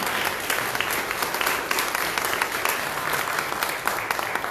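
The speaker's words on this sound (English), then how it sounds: "I want you to give yourself a round of applause" A crowd at a Louisiana House District 98 candidates' forum breaks into sustained applause, dense overlapping clapping holding steady and fairly loud throughout with no talk.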